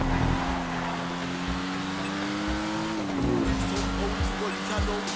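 Benefactor Schlagen GT sports car driving in Grand Theft Auto 5, its engine holding a steady loud drone with a brief pitch dip partway through, close and continuous with faint game sounds around it.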